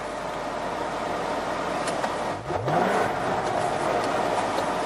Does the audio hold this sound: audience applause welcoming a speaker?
no